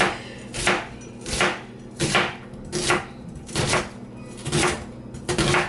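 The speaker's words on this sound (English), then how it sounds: "Just a rough chop." A knife chops an onion rhythmically on a cutting board, about eight evenly spaced thuds close up, with no talking.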